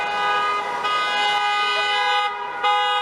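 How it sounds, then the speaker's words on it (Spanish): Several wedding-procession cars honk their horns together in a long, overlapping blare on a city street, loud and steady with brief dips, traffic rumbling beneath. "varios autos, tocando bocina, con la baliza prendida."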